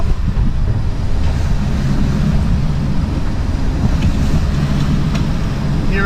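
Waves breaking at a bar crossing, heard from aboard a catamaran, as a loud continuous roar of surf and rushing water heavily mixed with wind buffeting the microphone.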